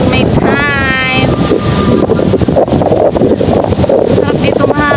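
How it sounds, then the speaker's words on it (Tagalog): Strong wind buffeting the microphone at a summer getaway, a constant loud roaring gust throughout with a brief tonal squeal early on, and people talking faintly underneath. "Sarap dito mahangin."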